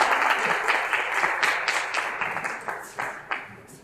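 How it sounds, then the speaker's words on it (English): Applause from a live show audience at a bar venue, dense clapping with a few sharper claps standing out, fairly close and steady before thinning slightly toward the end. "give yourselves a round of goddamn applause"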